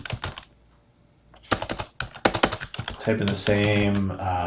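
Keys clack on a computer keyboard in quick bursts with a short pause between, close and crisp, then a person starts speaking over the last of the typing.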